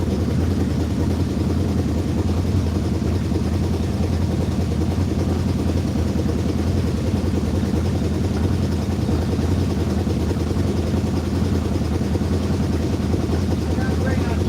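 An engine idles a little high, a steady, close, unbroken rumbling drone that holds at an even level from start to finish.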